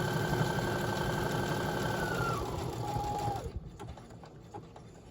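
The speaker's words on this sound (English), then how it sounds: "I'm going to sew down this side." A sewing machine stitches down the side of a small quilt at a steady, fast whir, then slows and stops near the end with a few light clicks.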